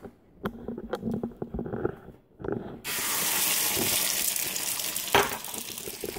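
Eggs dropped into a hot pan, with some handling knocks at first and then a loud, steady hiss of frying that holds to the end, close up with a brief clatter near the close.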